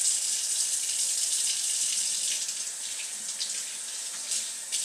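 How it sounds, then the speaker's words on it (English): Tap water runs steadily over vegetables being washed in a sink before cooking, a continuous close splashing hiss with no talking. "Washing the veggies first, make sure that all the dirt's off"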